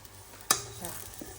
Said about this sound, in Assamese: ঘিউ দি ভাজিছোঁ